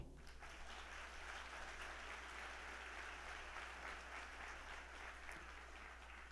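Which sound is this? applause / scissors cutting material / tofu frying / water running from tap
applause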